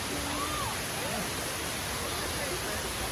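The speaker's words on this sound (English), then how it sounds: "They've got a waterfall in here." Steady hissing splash of a waterfall inside a zoo enclosure in the Lost Forest area, a constant even rush of falling water with faint bird chirps over it.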